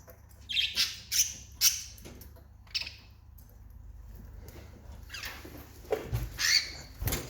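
Several sharp, high-pitched squawks from budgerigars in short bursts, with quieter rustling and scratching between them and a louder cluster near the end.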